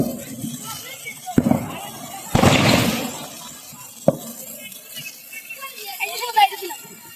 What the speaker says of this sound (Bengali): তাই সেখানে রকেট বুম লঞ্চ হচ্ছে